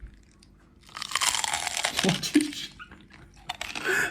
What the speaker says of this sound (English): That's some crunch, man.